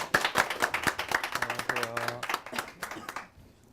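Audience clapping greets PD Kim Sang-wook, a leading Korean stage performance director and producer, at a youth mentoring and leadership academy, with brisk dense claps that build, run steadily for a few seconds and then thin out and fade.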